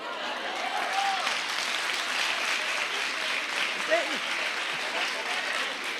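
Church congregation applauding during a women's sermon by a pastor, a steady dense wash of clapping throughout, with brief voices rising faintly over it.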